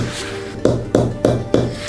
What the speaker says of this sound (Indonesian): Pisang yang ditinggalkan di luar bisa berubah menjadi palu dalam hitungan menit.